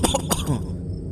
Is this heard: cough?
yes